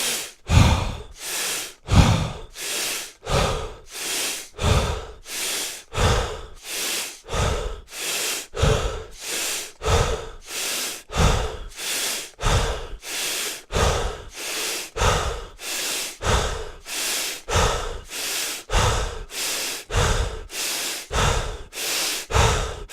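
Rapid, deep Warrior Breath breathing: about twenty strong, evenly paced breaths, each a forceful rush of air heard close up, with no talking.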